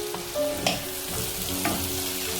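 Onions sizzle and sauté in a pan for a homemade bread chicken snack. The frying hiss is continuous and fairly loud, with a few brief clinks of stirring and no voices.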